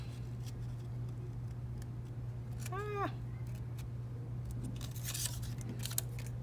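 Scissors cutting out a paper lizard shape, quick snips near the mic, faint under a steady hum with a few light ticks and handling noises.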